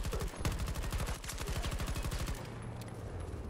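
Automatic weapon fire in Battlefield 2042: rapid, evenly spaced loud bursts of gunshots for over two seconds, then quieter scattered distant shots.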